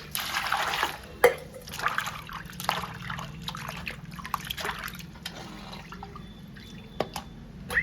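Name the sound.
washing dried fish with poured water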